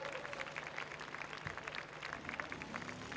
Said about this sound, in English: Big round of applause for Aaron Kelly